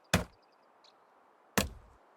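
Two sharp, loud chops of an axe into a tree in the medieval survival game Medieval Dynasty, spaced about a second and a half apart, each followed by a short woody ring.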